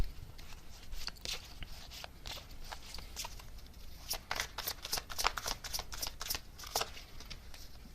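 Tarot cards are shuffled close by in a quiet room, a continuous run of soft riffling flicks and slaps that grows busier toward the end, with no speech.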